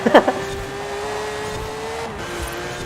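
In Forza Horizon 4, a Porsche GT3 RS engine drones at a steady high pitch, slowly dropping in tone, after a brief burst of tire noise at the start; loud and close, with no talk.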